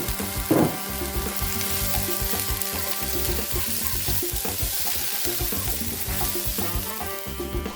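Red bell pepper hitting a hot pan of stir-fried chop suey vegetables, a loud steady sizzle with scraping stir strokes throughout and a brief clatter near the start, no voices.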